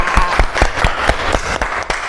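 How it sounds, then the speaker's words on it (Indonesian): Short burst of audience applause at a teacher-training class session, with several distinct claps standing out over a dense, steady patter of hands. "Tepuk tangan buat Bibah."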